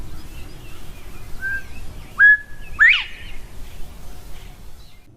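Quail call, a pair of clear whistled notes, the second sweeping upward, preceded by a fainter whistle, heard alone over low background noise.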